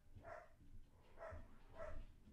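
A pet dog barks at a window indoors, three evenly spaced bursts about half a second apart, moderately faint and heard from a little distance across the room.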